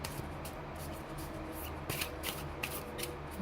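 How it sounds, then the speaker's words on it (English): Tarot cards are shuffled by hand in a quick run of crisp riffling bursts, close and fairly quiet, several separate shuffles following one another with no talking. "I'm going to shuffle 3 more times and then I'm going to pull off the bottom."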